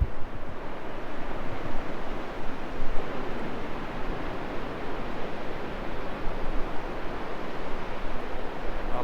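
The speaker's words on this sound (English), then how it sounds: "Welcome to the Pacific Ocean." Pacific Ocean surf on the Washington coast near Forks, a steady wash of breaking waves with some wind noise on the microphone, continuous and fairly loud with no voices.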